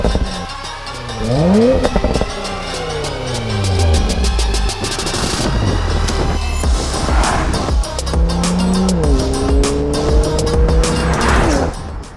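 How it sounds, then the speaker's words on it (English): Porsche Macan GTS with a 2.9-litre bi-turbo V6 accelerating hard, loud and close, its engine note climbing through several gears with sharp shift breaks and a brief tyre squeal, no talking. "let's see how quick the Macan GTS is"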